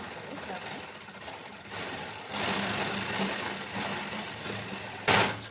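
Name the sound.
sewing machine stitching a lined blouse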